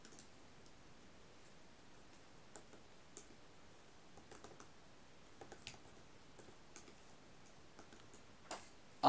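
Code being typed on a computer keyboard while working in Android Studio: faint, sparse key clicks scattered over a quiet room hiss, ending in a louder click.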